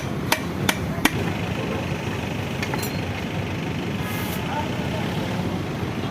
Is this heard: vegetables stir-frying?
no